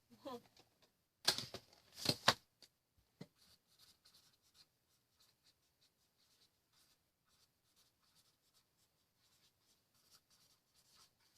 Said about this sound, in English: I want to write it down.